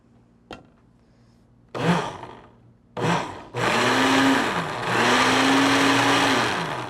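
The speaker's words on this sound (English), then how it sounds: "let's go ahead and blend our shake" Blender mixing a Nutella doughnut hole milkshake: a tap and two short whirring bursts, then a long loud motor run that dips and restarts as the thick mix churns.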